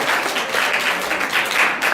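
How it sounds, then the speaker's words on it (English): Audience applause at a stand-up comedy joke-off show, a steady broadband wash of clapping sustained and fairly loud throughout the short stretch, with no voices standing out. "Give them a round of applause."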